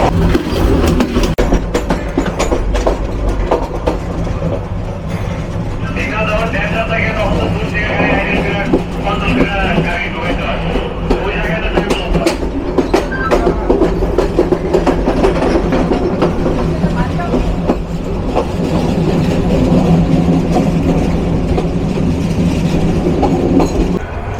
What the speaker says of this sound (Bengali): এই কিশোরগঞ্জ এক্সপ্রেস ঠিক একইভাবে ছুটে চলছে।